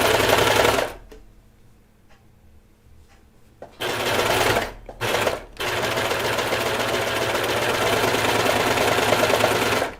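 A sewing machine converted back from cover stitch runs in long steady bursts while sewing a knit cardigan, with a quiet pause near the start and two brief stops midway. No one talks.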